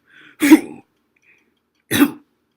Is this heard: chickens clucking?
no